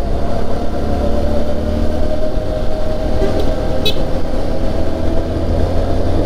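Vehicles in a motorcycle convoy, including a Feroza, travel on a road toward Tebo, with a steady, loud engine and road rumble throughout and a brief horn toot near the middle.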